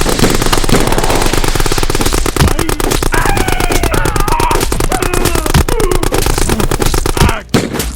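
Rapid bursts of machine gun fire rattle continuously through a war battle scene in a cinematic Bolt Action tabletop battle report, loud and dense with a brief drop near the end, alongside shouted voices.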